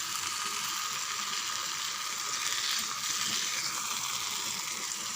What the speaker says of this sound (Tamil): நல்லா ஒரு 5 நிமிஷம் நல்லா கலந்து விடுங்க ஃப்ரெண்ட்ஸ்